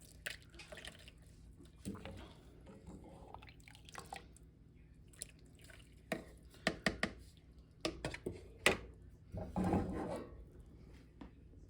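Curds and whey from homemade sheep milk cheese are poured into a strainer. Quiet, scattered splashes and drips come in irregular bursts, growing busier toward the end, with no talking.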